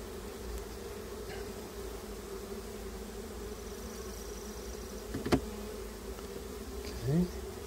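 Bees hum steadily and close during a hive inspection, a continuous low drone throughout, with a couple of brief louder passes as individual bees fly near.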